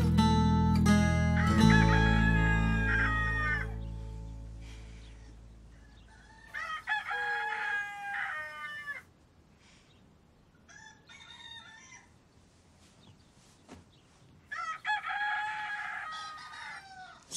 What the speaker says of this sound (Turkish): Karıcığım horoz sesi ya, horoz.